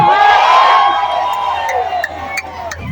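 A large protest crowd in the Philippines roars a loud cheer on cue, voices swelling together and then fading into scattered shouts and whoops, with a leader's voice calling out over them.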